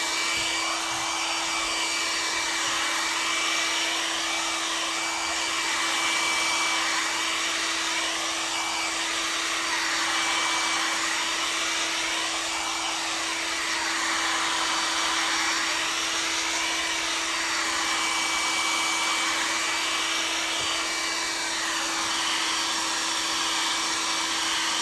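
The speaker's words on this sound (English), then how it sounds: "We can now give that a bit of a dry with a hairdryer." A hair dryer drying a leather car door card blows steadily and loudly throughout, its whooshing airflow rising and falling slightly as it's moved around, with a constant high whine.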